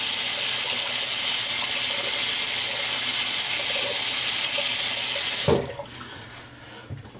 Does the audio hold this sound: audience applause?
no